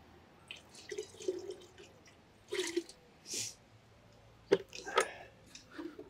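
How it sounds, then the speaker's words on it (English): Steeped comfrey liquid is poured into a watering can full of water on a wildlife allotment, making quiet, scattered splashes and drips close by, with short gaps between them. "I'm going to pour a bit of that into this watering can full of"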